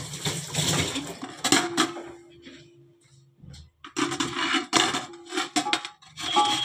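Fresh carrots rasped against a hand grater in a home kitchen for gajar ka halwa, heard as close, scratchy bursts of rubbing with a short quiet pause midway before the grating resumes.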